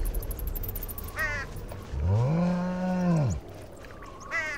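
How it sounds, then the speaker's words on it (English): Cows in the video game Sacred give one long, low, drawn-out moo in the middle, with shorter higher calls before and after over steady game ambience. "Cows."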